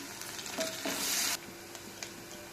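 Sliced onions fry in a pan with curry leaves and salt, giving a soft, steady sizzle with a few stirring scrapes and one brief louder burst.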